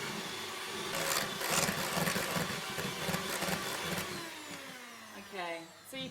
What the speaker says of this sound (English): a bit of double cream in a bowl, very simply, and you're just going to whisk it up